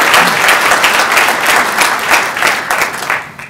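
Applause from an audience at a gathering on Illinois state finances rises loud and steady, a dense unbroken patter of many hands that fades toward the end.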